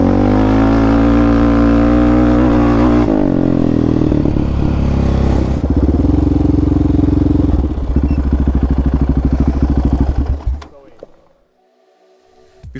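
A Yamaha Raptor 700 ATV engine riding on a dirt track, loud and close, its revs rising and falling through gear changes before cutting out abruptly near the end.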